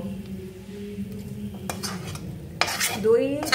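Fried onion scraped with a metal spoon from a pan into a pressure cooker holding chicken for yoghurt chicken, giving scattered scrapes and clinks over a low background hum, louder near the end.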